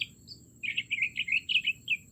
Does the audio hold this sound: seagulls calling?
yes